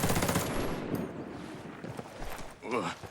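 Automatic rifle fire in Ghost Recon Breakpoint, rapid bursts of gunshots mixed with game effects, with someone talking over it in Thai.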